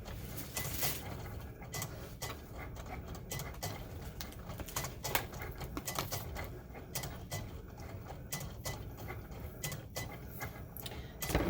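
A Cricut machine cutting heat transfer vinyl, giving a close, continuous mechanical patter of quick clicks and ratcheting motor movements that runs steadily and fairly quietly throughout, with no talking.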